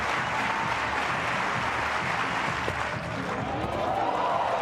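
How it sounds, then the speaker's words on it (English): A stadium crowd at an athletics meet applauds a long jumper during his run-up, steady dense clapping and crowd roar filling the space, loud and sustained throughout. "Crowd getting behind him."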